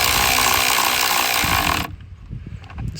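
A ratchet snugs down catch can bracket bolts on a Ford F150 5.0, a close rapid clicking run that stops abruptly, followed by faint handling noises.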